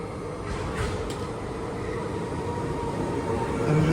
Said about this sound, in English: Our train is approaching the station.